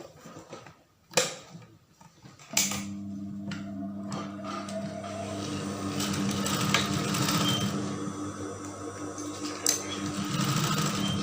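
A sewing machine stitching gathered baggy trousers starts after a couple of handling clicks and runs with a steady, close mechanical hum and rapid needle chatter, pausing only briefly.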